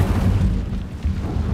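Incendio fire spell cast in Hogwarts Legacy, a loud continuous roaring, rumbling burst of flame that lasts throughout.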